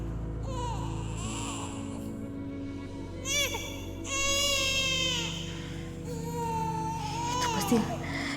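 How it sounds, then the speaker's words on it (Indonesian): A baby wails in a few rising and falling bursts, moderately close, with quieter whimpers in between and a voice speaking underneath. "Itu pasti suara bayi kita, Mas."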